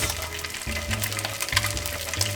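Tofu sizzles steadily in hot oil in a non-stick pan over medium heat for a stir fry, a close, continuous frying crackle with no voices.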